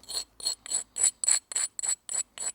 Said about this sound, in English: Bit of abrasion, not too much, on the reverse side as usual.